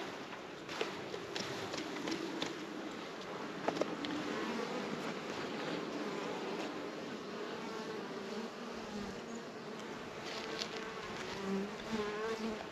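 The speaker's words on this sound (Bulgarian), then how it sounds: "пчелите се вижда как почистват обработения участък" Honeybees cleaning out comb cells during a hygienic behaviour test on a colony give a steady, close, dense buzzing hum that holds unbroken, with a few brief sharper buzzes passing nearby.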